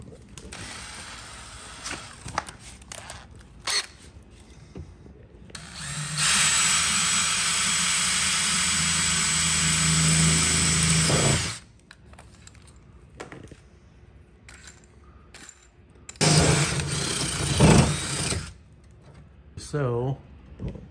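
Power drill with a 1/8 inch bit boring holes for spot welds in the door of an extended-cab 1999-2007 Ford Super Duty; a loud steady whine runs about five seconds, then a second shorter burst, with rattling and handling noises between.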